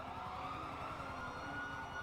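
Police sirens wail steadily in a GTA V NoPixel roleplay scene, a continuous sustained tone running the whole moment with nearby traffic rumble underneath, no talk over it.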